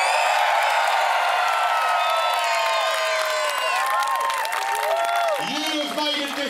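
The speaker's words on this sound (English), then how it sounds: "let's hear a big cheer and let the kids race!" A crowd at a BMX race final in Peckham cheers and applauds loudly, with whoops and high children's shouts rising over the continuous roar for several seconds.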